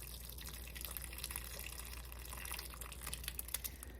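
Hot elderberry mixture poured into a jelly bag, dripping and trickling into a bowl below, faint and close, with a soft continuous patter of liquid.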